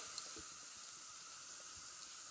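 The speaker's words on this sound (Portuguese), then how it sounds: "agora tá na hora da gente colocar o alho" Garlic frying in a pan among golden-browned onion while cooking beans, a faint, even sizzle hissing steadily on its own.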